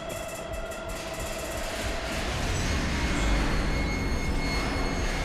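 A train rumbles along in the video game Fallout: London, a broad steady roar that grows heavier and louder partway through, with no voices.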